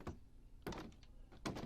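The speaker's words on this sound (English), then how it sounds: "And there's our door and button sounds." Door and button sounds from the block game Minecraft, three dull wooden thunks spaced about evenly apart, close and fairly quiet, with no talking.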